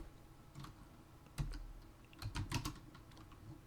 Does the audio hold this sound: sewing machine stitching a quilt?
no